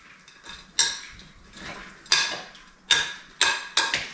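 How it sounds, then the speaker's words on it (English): Fruit soaked in whiskey and juice stirred in a bowl, a spoon knocking and scraping against the sides in a series of sharp clinks, close and clear with quiet gaps between strokes. "I'm just going to give that a stir just to coat it all through with the juice or the liquid"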